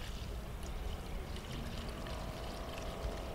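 Fuel pours from a canister into a car's fuel tank with a steady liquid gurgle and glug, continuous and fairly faint, with no voices.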